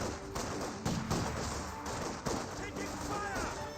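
Rifle and small-arms fire from infantry garrisoned in building windows in Company of Heroes 2, shots and bursts cracking over a dense battle din with a few sharper impacts throughout.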